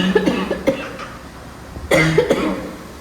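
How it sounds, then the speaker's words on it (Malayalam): Two bursts of coughing, each a quick cluster of harsh coughs, separated by a quiet pause. "ചുമ പിടിച്ചോ?"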